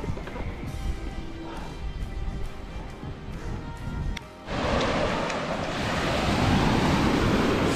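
Sea waves wash onto a beach at an Aegean seaside camping spot, a steady rushing surf with wind buffeting the microphone, growing louder and fuller partway through while a person talks over the first half.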